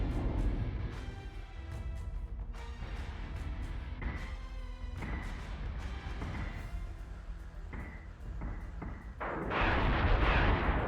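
Missiles launching in the space combat game Battlestar Galactica Deadlock, a continuous rumbling barrage of booming thuds and bursts, building to a louder roar at the end, with no talk.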